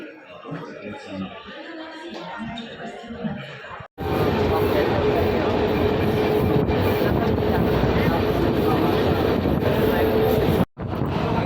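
A voice speaks over faint background noise, then a loud, steady rumble of a train fills the air at Jalgaon railway station in the rain, with a brief cut near the end.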